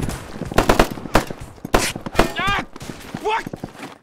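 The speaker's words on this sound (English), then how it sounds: "Fire on him!" Rapid automatic gunfire crackles in a firefight, short bursts of shots trading back and forth with shouting voices over and between them.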